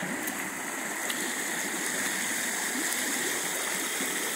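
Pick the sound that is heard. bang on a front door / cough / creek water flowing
creek water flowing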